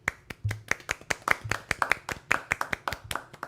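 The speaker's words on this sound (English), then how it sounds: "We forgot to clap." An audience at a prom claps in a brisk, fairly even rhythm, about twenty crisp, close handclaps in a few seconds, over a faint low murmur.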